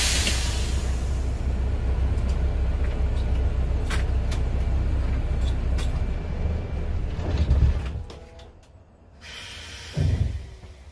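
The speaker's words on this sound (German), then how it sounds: "dann stellen Sie bitte mal das Fahrzeug parkfertig ab." Class D bus being brought to a stop and parked at the end of a driving test: steady engine and road rumble that swells briefly, then drops away with a short hiss like an air brake or door near the end, no talk.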